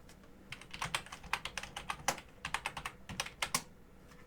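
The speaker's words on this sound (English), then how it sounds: "let's type that in really quickly" Quick typing on a computer keyboard, a close run of crisp clicks in fast uneven bursts with short pauses between, heard alone without talk.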